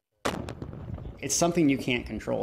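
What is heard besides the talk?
gunfire or mortar-like explosions, how a firework sounds to a veteran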